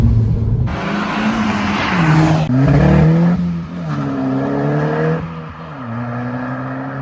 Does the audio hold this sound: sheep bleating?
no